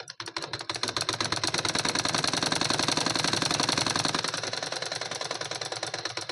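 A sewing machine stitches folded cotton fabric for a blouse lining, giving a fast, even, rhythmic clatter that is close and loud and runs without a break.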